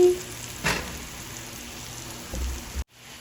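An egg omelette frying in a pan, a soft crackling sizzle broken by a couple of brief knocks and scrapes from flipping, ending abruptly.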